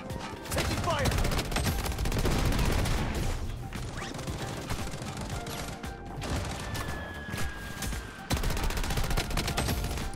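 Rapid bursts of gunfire and crashing blasts from the video game Bloodstrike fill the scene almost without a break, loud and dense, with voices talking underneath.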